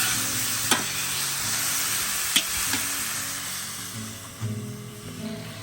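Sliced onion and finely chopped garlic sizzle steadily in a hot pan with browned meat, a continuous frying hiss broken by a few sharp stir clicks and scrapes, close and alone.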